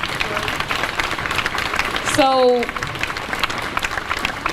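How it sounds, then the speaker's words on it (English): A protest crowd at the University of Pennsylvania applauds steadily throughout, dense clapping from many hands, with a brief tonal electronic sound and a spoken word cutting in midway. "all right, clap it up,"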